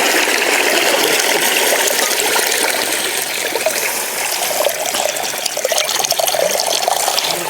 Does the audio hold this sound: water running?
yes